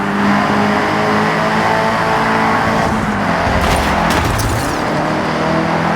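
Nissan S-chassis car drifting in Forza Horizon 6, its engine droning loud and steady throughout with a brief burst of higher tire squeal near the end.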